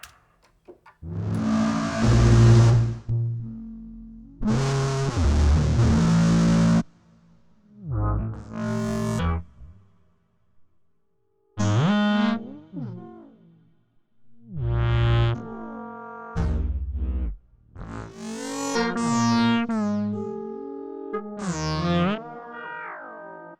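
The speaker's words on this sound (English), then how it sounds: "And this would be a phaser." Electric guitar played through a phaser effect in Guitar Rig software, a series of separate strummed chords and picked phrases with sweeping, swirling tone, each burst ringing out then stopping, close and clear with no talk.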